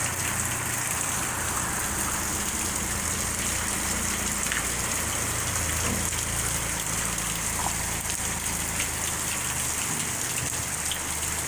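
Steady rain from a windy rainstorm lands on cement, giving a constant close hiss and patter of splashing drops with no pauses.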